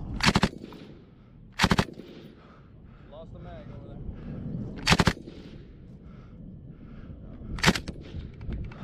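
Machine gun live fire on a combat training range: four short, sharp bursts a few seconds apart, loud and close, with faint shouting and voices in between.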